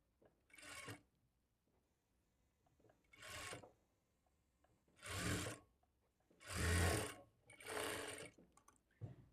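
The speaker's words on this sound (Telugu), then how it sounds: "ఫోల్డ్ చేసుకొని స్టిచ్ చేసుకోవాలి" A sewing machine stitching a folded hooks patti (hook strip) for a blouse, running in five short bursts of whirring, each about a second long, with pauses between, close and moderately loud.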